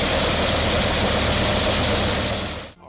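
Mini harvester built from a tractor, with a front cutter for wheat, paddy or sunflower, running its engine under heavy load: a loud, steady, broadband diesel roar that holds evenly, then cuts off abruptly at the end, with no talk over it.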